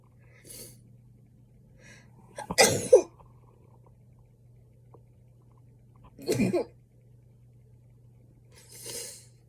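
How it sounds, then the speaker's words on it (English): A few close, sharp bursts of sneezing or coughing break a quiet room, with a faint steady hum and soft breaths between them. "I have to sneeze."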